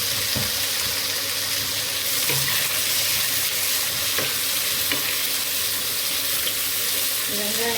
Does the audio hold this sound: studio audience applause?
no